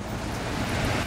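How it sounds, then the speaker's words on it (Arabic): Heavy, steady rain pours during a thunderstorm in Casablanca, a dense continuous roar with no distinct thunderclap standing out across the brief stretch. "امطار غزيره مستمره"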